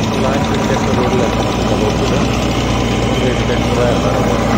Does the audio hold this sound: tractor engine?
yes